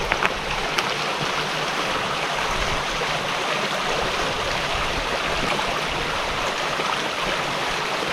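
A forest stream rushes and burbles steadily close by, a continuous broadband flow with no voices.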